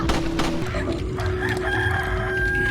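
A rooster crows in the Resident Evil 4 video game, a drawn-out cock-a-doodle-doo with a few clucks, layered over the steady hum of game music and ambience.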